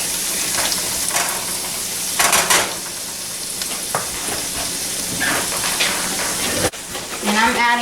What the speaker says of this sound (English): I'm adding 1 cup of beef broth to the skillet with the mushrooms